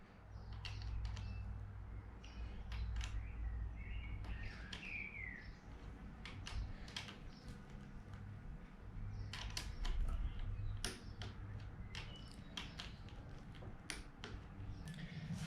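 A torque wrench clicks again and again while the crank and cam bolts of a Toyota Landcruiser F135 engine are tightened evenly, sharp clicks spread irregularly through the workshop with faint background noise.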